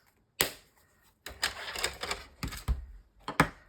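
Scissors cutting through thin tea bag paper for a handmade card insert, a few short crisp snips with pauses between them, close and clear with no talking.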